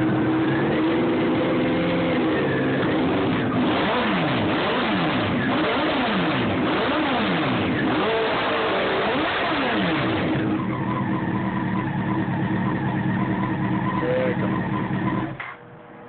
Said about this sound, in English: is a D&D modded shorty carbon fiber exhaust